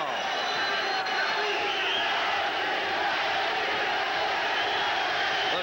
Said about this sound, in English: The chant of Jesse.